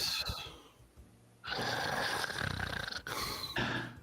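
A voice imitates loud, rasping snoring for a sleeping character during a Dungeons & Dragons tabletop session, with a quieter breath first, then a long, heavy, rattling snore that ends in a shorter snort.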